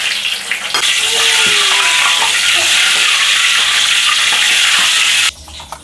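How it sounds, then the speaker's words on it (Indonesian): Chilies fry in hot oil in a pan with a loud, dense, continuous sizzle and a few stirring scrapes. The sizzle stops abruptly near the end, leaving quiet clinks. "Ini last kali saya goreng cilinya ya."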